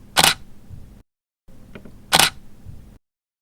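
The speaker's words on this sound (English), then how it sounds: "Squeeze the shutter to take the shot." Two crisp single-lens reflex camera shutter clicks about two seconds apart, each a sharp close snap followed by a soft mechanical tail, with quiet pauses between them.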